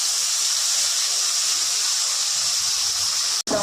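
A paste of black and yellow mustard seed, poppy seed and garlic hits a hot pan, giving a loud, steady, close sizzling hiss that stops abruptly near the end.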